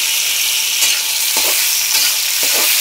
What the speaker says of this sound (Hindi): अब हम इसके अंदर टमाटर शामिल कर रहे हैं